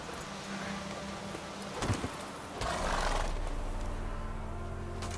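Roach, a horse in The Witcher 3, gives a short whinny and snort around the middle, then hooves trot steadily over low ambient game noise, with no one speaking.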